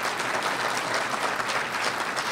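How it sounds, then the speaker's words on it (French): Audience applause during a political speech, a dense, steady round of clapping from the crowd, loud and continuous across the whole stretch. "Et, oui, vous pouvez l'applaudir."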